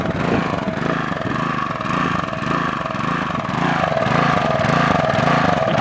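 A Briggs & Stratton 375 Sprint lawn mower engine runs steadily and close, with a loud, continuous buzzing drone and a slightly uneven pulsing idle and no voices.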